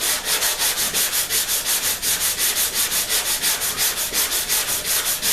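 Auto body filler on a dented car panel is sanded by hand with quick, even back-and-forth strokes, a rhythmic raspy scratching close to the listener with no voices.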